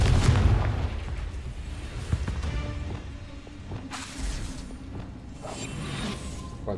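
A Confringo spell explodes in a video game battle, a loud booming blast with a rushing whoosh, followed by rumbling game-effect noise and softer swishing bursts.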